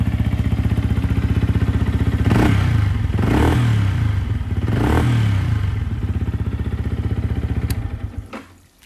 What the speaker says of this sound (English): I'll just give it a bit of a rev.